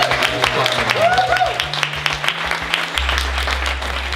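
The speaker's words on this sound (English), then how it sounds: "Give yourselves a round of applause." An audience at an improv comedy night breaks into applause, a dense wash of clapping that fills the room and carries on steadily for a few seconds.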